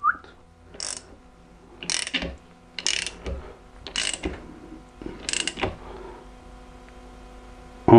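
Ratchet wrench tightening a fastener during valve clearance adjustment, heard as five short bursts of rapid ratcheting clicks spaced about a second apart, close and fairly loud against a quiet background.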